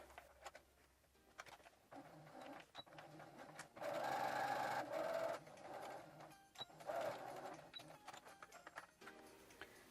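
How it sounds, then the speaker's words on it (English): A sewing machine runs in steady straight-stitch bursts along the bottom of a pressed shorts pocket, its motor whirring close by with short pauses and small clicks between runs, loudest in a sustained stretch midway. "I am going to line up the pocket itself at the bottom and do a straight stitch there."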